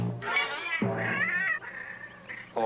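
A cat meows in long, drawn-out, wailing cries that bend in pitch, two or three yowls running into each other, fairly close and alone without speech.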